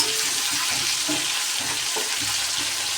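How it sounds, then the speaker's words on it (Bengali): Meat for biryani frying in a pan after being flipped, a close steady sizzle with rhythmic crackling pops, no voices. "মাংসটা তো এক পিঠ ভাজা হয়েছে, আর এক পিঠ উল্টিয়ে দিলাম।"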